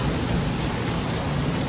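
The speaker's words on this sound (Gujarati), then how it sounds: "તો જો ફરીથી વરસાદ ચાલુ થઈ ગયો છે." Rain falls steadily during a wet evening, a dense, even hiss of drops hitting surfaces that carries on without pause for the whole stretch.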